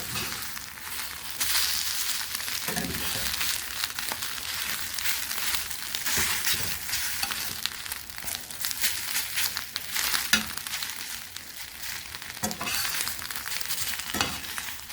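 An egg fries in a pan with a steady broad sizzle, broken by scraping stirs and spatula scuffs as it is turned over, close and alone with no talk.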